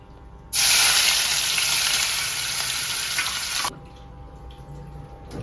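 Mutton curry ingredients hit hot oil in a pan: mutton, green chillies, curry leaves, tomatoes and ginger-garlic paste, setting off a loud, bright sizzle that bursts in suddenly, holds for about three seconds, then cuts back to quiet.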